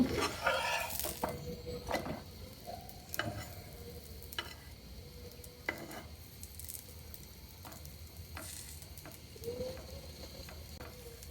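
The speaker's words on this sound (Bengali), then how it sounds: "ছোট তাওয়াটা ওই জন্য একটা করে ভেজে নেব" Chicken keema paratha frying on a small tawa, with a faint, steady sizzle and occasional scraping and clinking of a spatula against the pan, quiet and close.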